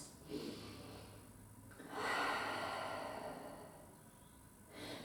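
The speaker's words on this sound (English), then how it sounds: "Just take a few deep breaths." Slow deep breaths in a Pilates rest position, a few soft close inhales and long airy exhales rising and falling alone in a quiet room.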